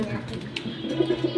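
A red shaker pigeon chick gives soft, low cooing notes at close range, the coos rising near the end over faint background talk.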